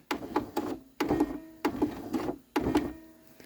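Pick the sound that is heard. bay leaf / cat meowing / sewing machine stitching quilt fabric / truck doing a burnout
sewing machine stitching quilt fabric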